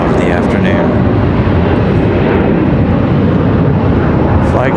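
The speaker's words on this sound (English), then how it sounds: "you guys are seeing the last plane of the afternoon." An airplane at Charlotte Douglas International Airport roars loudly and steadily, a dense continuous engine rumble close by that fills the whole stretch with no break.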